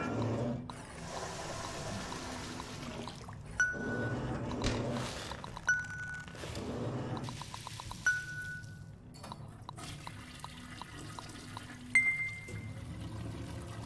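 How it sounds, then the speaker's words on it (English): A science bidet in the Aperture Desk Job video game flushes and pours water, with trickling and gurgling liquid running steadily, punctuated by small clinks and bright electronic tones. "Yes, there's water. Yes, it flushes."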